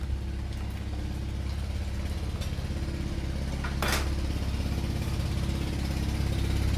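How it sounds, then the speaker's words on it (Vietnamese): A mini electric knife sharpener, Nantonan model 420B, runs with a steady, fairly loud motor hum and buzz that continues without a break, with a brief brighter scrape near the middle. "Mài dao mini, mài dao điện nha."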